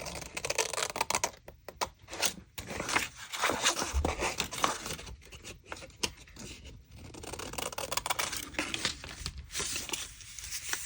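Paper is cut and trimmed for a junk journal, making continuous close rustling, snipping and crinkling with uneven bursts and short pauses.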